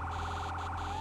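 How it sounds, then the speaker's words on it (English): A fire truck siren in the video game Firefighting Simulator wails as a steady, continuous electronic tone, moderately loud and alone. "can we turn the damn siren off?"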